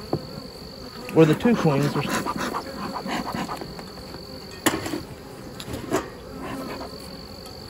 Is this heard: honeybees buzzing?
yes